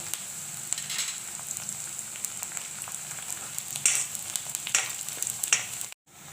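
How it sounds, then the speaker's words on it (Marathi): Onion, crushed garlic and curry leaves frying in a pan for a Bombil (Bombay duck) and onion dish, giving a steady close sizzle with crackles and small pops throughout, ending abruptly. "आपण आता त्याच्यामध्ये कांदा टाकू त्याचमध्ये आपण ठेचलेला लसूण कढीपत्ता टाकू"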